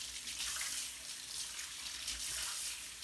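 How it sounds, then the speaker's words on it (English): Cold tap water runs steadily into a kitchen sink being filled to wash mussels, a continuous close hiss and rush with no voices. "we have to fill the sink with cold water"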